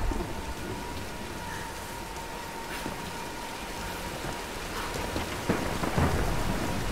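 Steady heavy rain pours in a thunderstorm in the video game Tomb Raider, with dull thunder rumbles and a few sharp crackles near the end, no talk.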